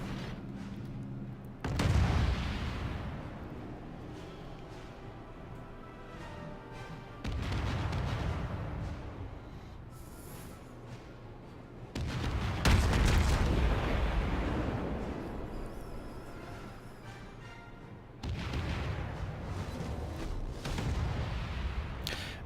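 Heavy naval gun volleys from the USS Baltimore cruiser in World of Warships, with several deep, booming salvos spaced a few seconds apart, each followed by a long rumbling decay.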